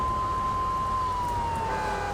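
A fire truck siren in the video game GTA 3 wails steadily, a single sustained tone held loud and close over rumbling engine noise, slowly sliding slightly lower in pitch.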